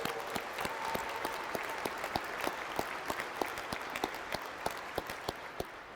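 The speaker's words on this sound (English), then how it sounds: "Give yourselves a great round of applause." Law school graduates at a Catholic University commencement applaud steadily, a dense wash of clapping from a large crowd with sharper individual claps standing out throughout, no talking over it.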